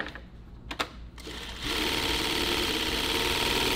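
A sewing machine winds a bobbin for nylon tactical gear, a steady high-pitched motor whir that starts after a few clicks and handling noises, close and continuous.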